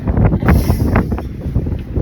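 Loud wind buffeting the microphone in gusty, rumbling bursts outdoors in Prague, Czech Republic, with no talking.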